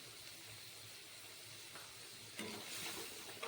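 A ground spice paste with turmeric powder sizzles softly in a pan, a faint, even frying hiss with brief stirring swells toward the end.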